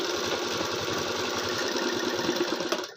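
A sewing machine stitches fabric piping onto a blouse with a half-inch seam, giving a close, steady, rapid mechanical whir with a fast pulsing rhythm and no voices.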